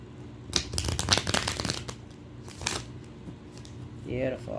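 Tarot cards being shuffled by hand at close range, a few bursts of crisp riffling and rustling, with brief talk near the end.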